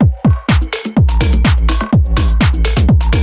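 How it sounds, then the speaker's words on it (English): Support synths are layered over the drums and bass of a chill remix drop. Bright synth stabs ride a punchy beat, and the mix grows fuller after a sparse opening second. "Let's put some support synths in there for later in the drop."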